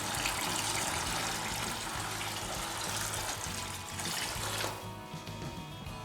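Steady rushing pour of demineralized water into a container, continuous and close, easing slightly toward the end.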